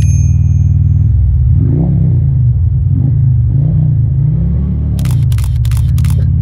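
A Harley-Davidson Road Glide with a full Chromeworks exhaust system revving loudly through a tunnel, its deep rumble swelling in several rhythmic pulses, with sharp clicking near the end.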